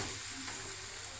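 Fish frying in a pan for a gongura fish masala curry, a steady, even sizzle with soft broadband crackle running throughout, fairly quiet and continuous with no voices.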